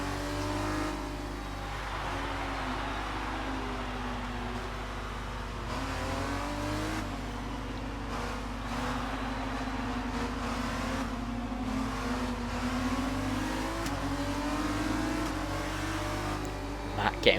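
F2 racing cars in a video game circulate behind a safety car at Japan, a steady droning engine hum with gear-shift changes throughout, continuous and moderately loud.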